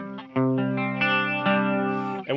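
An electric guitar plays sustained chords through an Amplified Nation Steel String Singer amplifier on its rock setting, a few strummed changes ringing out with a chorus-like shimmer and mild grit, played alone at close range.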